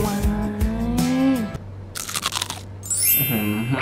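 Loud, close crunching as a David's Homemade soft M&M cookie is bitten and chewed, coming in irregular bursts between brief vocal tones.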